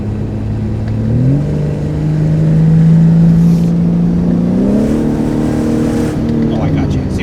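A BMW G80 M3 fitted with a full titanium Valvemaster exhaust drones loudly from inside the car, its engine tone rising through a gear and climbing again as it accelerates, with a steady deep note throughout.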